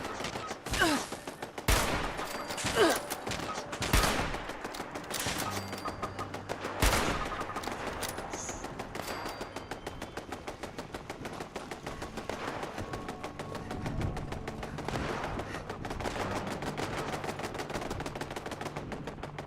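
Automatic gunfire from robots in Fallout 76 rattles in repeated bursts, with several sharp, loud reports early on, then steadier rapid firing continuing at a slightly lower level.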